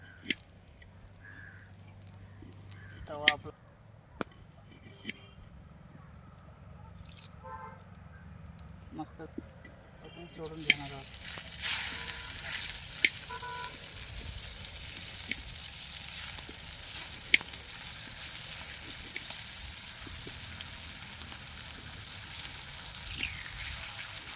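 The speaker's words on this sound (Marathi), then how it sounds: "तेल ओतलं आहे तव्यामध्ये कालजी फेटा चालू आहे कालजी फेटा फ्राय" Chicken liver frying in oil on a flat pan outdoors for a New Year's Eve party: a quiet start with crows cawing and clicks, then a loud continuous sizzle rises sharply and holds, dotted with pops.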